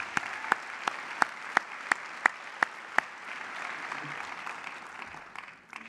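Conference keynote audience at an education festival begins applauding, with a handful of sharp, evenly spaced claps ringing out over a steady room hum before the sound fades into quieter murmur.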